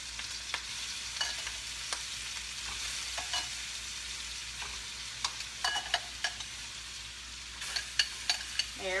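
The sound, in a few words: shrimp frying in butter and olive oil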